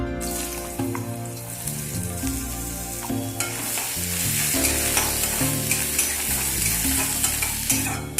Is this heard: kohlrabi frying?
yes